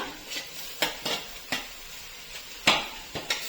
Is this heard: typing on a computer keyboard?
no